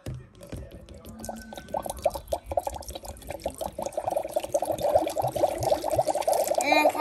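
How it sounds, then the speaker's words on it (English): Water is poured into a Magic Mixies toy cauldron, a splashing, trickling stream that grows louder and busier over several seconds, close to the microphone with no talk. "So we're going to pour some water on it."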